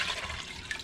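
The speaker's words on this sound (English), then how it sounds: "So you're going to fill it half full with water," Water pouring to fill a medium to large crock pot halfway, a brief rushing gush heard close and alone.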